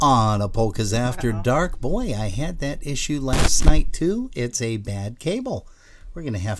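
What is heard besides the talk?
None of the usual background noises is heard.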